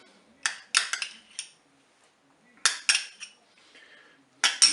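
Metal spoon scraping and clinking in a Cookeo pot while tomato paste is stirred into spaghetti, in several short bursts separated by quiet gaps.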